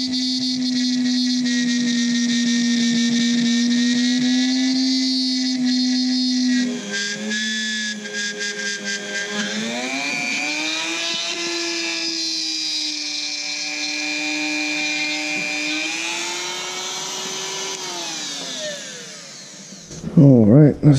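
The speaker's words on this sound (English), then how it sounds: "I use a Dremel tool with whatever this thing is. It's like it's almost like a router bit, but it cuts this plastic really well." Dremel rotary tool with a router-style bit trimming a hole in plastic for ATV seat work, a loud, steady high whine close by that dips and rises in pitch as it bites, then stops with clattering handling sounds.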